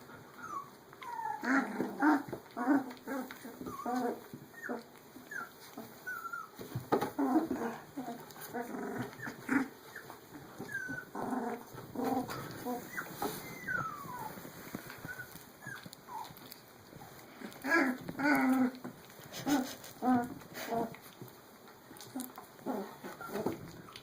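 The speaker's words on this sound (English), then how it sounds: "It's puppy playtime." Puppies play close by, trading small growls, yips and whimpers in scattered bursts over about twenty seconds, fairly quiet, with a person murmuring now and then between them.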